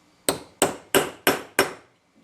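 Five sharp, evenly spaced hammer strikes drive a hole punch through a gasket on a brake master cylinder, each blow a crisp metallic crack with a brief ring, close and loud with no talking.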